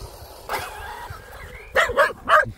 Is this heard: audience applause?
no